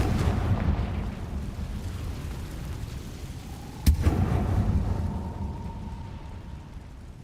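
A Confringo fire spell blasts in the Hogwarts Legacy video game, a single sharp burst near the middle over a steady low rumble of in-game ambience, followed by a faint lingering tone.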